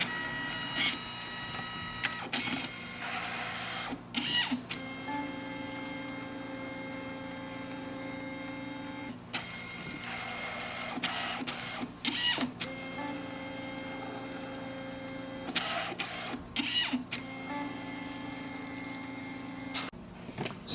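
A Canon Selphy Square QX10 photo printer prints a photo, its motor whirring in repeated passes with soft mechanical clicks and pauses between cycles, close up and without talk.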